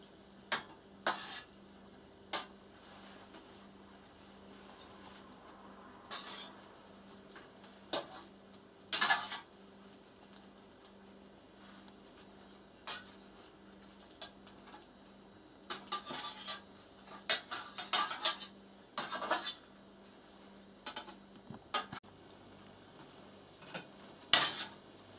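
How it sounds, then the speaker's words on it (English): Three pancakes are flipped in a frying pan and browned on the second side: a spatula scrapes and taps against the pan in scattered bursts over a quiet low sizzle. "flip them all over and give them a couple of seconds on the other side"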